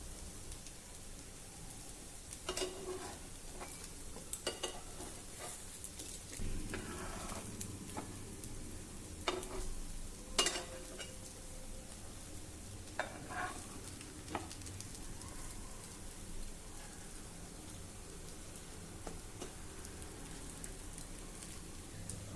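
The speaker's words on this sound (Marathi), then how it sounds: "तूप टाकून आपण ह्या पॅटीज अलटून पलटून छान भाजून घेऊया" Upwas patties shallow-frying in ghee in a pan, a soft continuous sizzle with occasional crackles and light scraping or flipping sounds, quiet and close.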